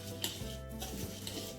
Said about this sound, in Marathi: आता कांदा छान मिक्स करून घेऊया।